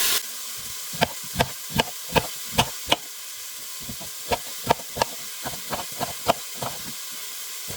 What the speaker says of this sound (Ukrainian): і кілька хвилин буду смажити, сюди зразу додам приправи.